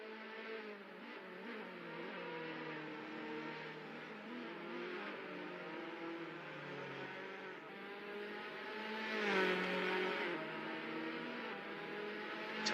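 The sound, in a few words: race cars driving in a virtual racing video game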